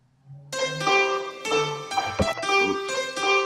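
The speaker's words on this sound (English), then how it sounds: "the piano keys sound something like this." Synthesized piano keys play a short melodic run in production software, a soft low note first, then bright sustained chords in several clear bursts.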